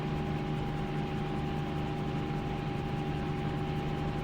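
Helicopter flying in Microsoft Flight Simulator 2024, a steady droning engine and rotor hum with constant tonal whine, unbroken and even in level throughout with no voices.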